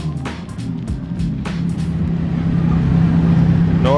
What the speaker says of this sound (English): Norm in the supercharged Lamborghini Gallardo. Wow, that's freaking loud.